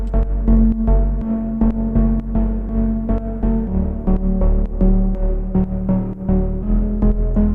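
Distorted bass synth preset named Holistic plays alone at steady loudness, a thick low-end tone with rhythmic note changes and sharp transient hits throughout.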